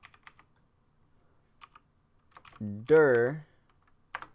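Light computer keyboard typing at a Linux command line, sparse soft keystrokes scattered across the stretch, with a short burst of speech in the middle.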